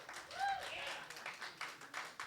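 An audience applauds to vote for option B at a live storytelling event, sustained clapping swelling and ebbing with a short vocal cheer near the start and a few sharper claps toward the end.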